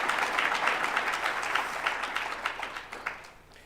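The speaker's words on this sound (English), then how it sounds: "A round of applause for CIDB," Audience at a construction-industry programme launch event in Durban applauding, a dense steady roll of many hands clapping that fades slightly toward the end, with no speech over it.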